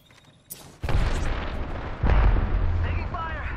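Video game gunfire and explosions: a sharp shot, then heavy booming blasts and rumbling impacts, loud and close, with faint game voices and effects in between.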